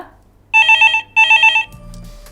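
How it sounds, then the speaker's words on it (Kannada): Telephone ringing for a caller on a televised game show: two clear bursts of rapid electronic trilling rings, loud and close, followed by a low tone on the line. "ಓಕೆ, ರಿಂಗ್ ಆಗ್ತಾ ಇದೆ."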